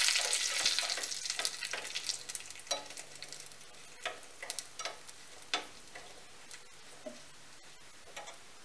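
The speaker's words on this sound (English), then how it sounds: "Now we will add the red chili, the curry leaves. Saute this for a few seconds." Urad dal, red chili and curry leaves sauté in hot oil, a crackling sizzle loud at first and thinning into scattered pops and ticks over several seconds, with no voices.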